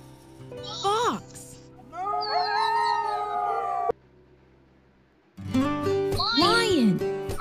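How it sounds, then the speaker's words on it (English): A fox gives a series of high, wavering howls and yelping cries in short bursts, loud and close, separated by a brief quiet gap. "Fox."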